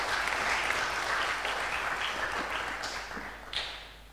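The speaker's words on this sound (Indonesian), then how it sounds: "Kita beri aplaus untuk anak-anak kita" Applause for children at a church service, a dense sustained clapping from a congregation that tapers off toward the end with a few scattered claps.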